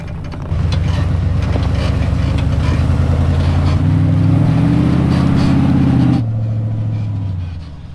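A Ram pickup truck edges its way over a drop, its engine droning loud and close throughout with a rising rev in the middle before easing back toward idle, and no talking.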